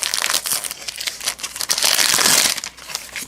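Plastic wrapper of a 2014 Panini Prestige football hobby box topper being cut and torn open, a close, continuous crinkling and tearing lasting a few seconds with no talk.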